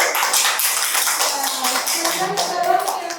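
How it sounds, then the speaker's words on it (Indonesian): A school class claps hands together in a civics lesson, a lively burst of many close claps with uneven rhythm, while children's voices murmur and chatter underneath. "beri tepuk tangan"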